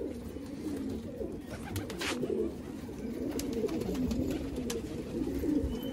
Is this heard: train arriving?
no